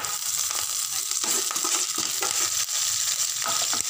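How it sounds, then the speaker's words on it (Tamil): Lentils and ginger fry in oil for vegetable rava kichadi, a dense continuous crackling sizzle with occasional sharper pops and stirring scrapes, close and steady throughout. "அடுத்ததாக பருப்பெல்லாம் லேசாக நிறம் மாறவும்"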